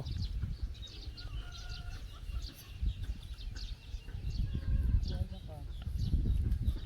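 Chickens, including a hen with newly hatched chicks, cluck and chirp steadily in a rural yard in the morning, with scattered short calls over low background noise and occasional voices.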